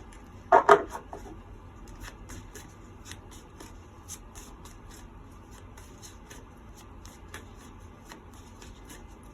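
A deck of playing cards is riffled in one quick, close burst near the start, followed by soft handling and tapping noises in a quiet room.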